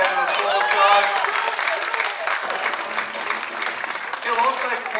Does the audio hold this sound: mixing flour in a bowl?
no